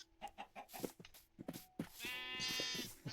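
Sheep in a video game give several bleats, preceded by a string of short clucking animal calls, then a drawn-out wavering bleat, all close and fairly clear.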